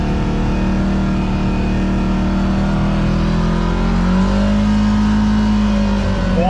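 A Kawasaki KRX side-by-side engine drones loudly at steady high revs while moving, with the pitch slowly shifting and climbing slightly toward the end.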